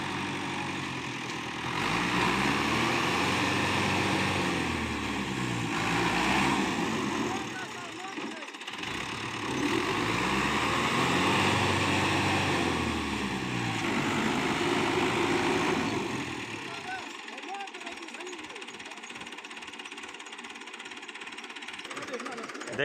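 A tractor engine labours to drive out of a spot where it is stuck, revving hard in long straining surges with dips between them, then dropping to a rough chugging idle, while someone talks throughout.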